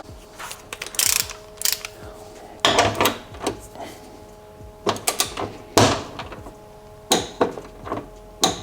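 A ratcheting torque wrench tightens the Project Gamma intake bolts on a BMW F90 M5 to 20.66 foot-pounds, with close, sharp bursts of rapid metallic clicks separated by short pauses.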